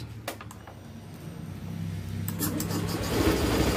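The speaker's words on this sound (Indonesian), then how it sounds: "langsung nyala ya teman-teman ya, saya starter" Fuel-injected motorcycle engine cranked with the electric starter during a repair, whirring briefly and then catching into a steady idle that grows louder and holds, close by.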